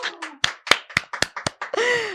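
Studio audience at a podcast taping clapping in a quick, uneven burst of sharp claps, close and loud, with a short cheer-like whoop at the end.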